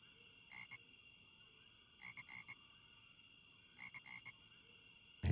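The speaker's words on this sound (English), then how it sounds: "Oh, hi, frog." A video-game frog croaks in three short bursts of a few rapid pulses each, over a steady high electronic hum, with a loud thump at the very end.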